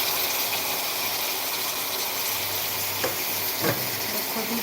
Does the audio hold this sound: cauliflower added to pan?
yes